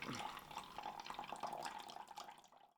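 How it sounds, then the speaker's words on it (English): Excess liquid drains off salted red onions held back with a lid, a quiet, continuous trickling splash that tapers off after a few seconds. "I'm just going to use my lid to catch the onions and drain off that excess water"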